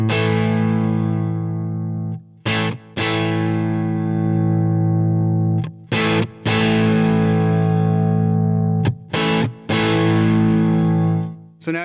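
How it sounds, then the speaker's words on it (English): Electric guitar played through a Jackson Audio Prism pedal on its boost setting, clean-boosted sustained chords ringing out loud and close, separated by a few short gaps where the notes are cut and restruck. "So now you're hearing more just boost. You're not hearing actual overdrive or gain."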